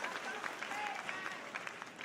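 Steady, dense applause from a pageant audience at the Miss International 2024 final, sustained and even throughout with no break.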